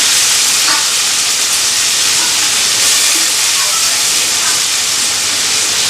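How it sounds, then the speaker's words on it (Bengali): Cabbage and onion fry in hot oil, giving a loud, continuous sizzling hiss that stays even throughout, with no voices over it. "এখন বাঁধাকপি পেঁয়াজটা ভেজে নিই। তেলটা অনেকটাই গরম হয়ে গেছে।"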